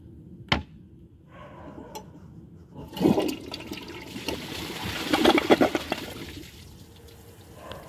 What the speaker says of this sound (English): Pretty typical flush for one of these. Not really much to say about it, except that it could definitely use some more power.